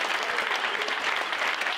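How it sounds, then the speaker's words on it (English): An audience at the Bury AFC end-of-season awards night applauds steadily, a thick, even wash of clapping without a break. "Let's keep that applause going."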